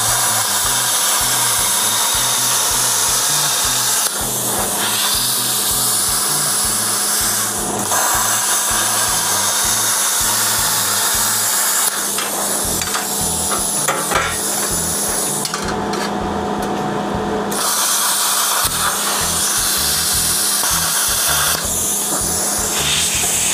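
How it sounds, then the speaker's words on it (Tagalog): Predator Plasma Slasher Cut 60 plasma cutter slicing through steel: a loud, continuous harsh hiss and buzz with a low electrical hum, holding for over twenty seconds with brief dips and changes in tone, close and without speech. "si Predator Plasma Slasher or Plasma Cutter, kaya niyang pumutol ng bakal hanggang sa 20 mm."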